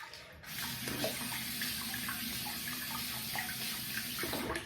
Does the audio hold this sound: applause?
no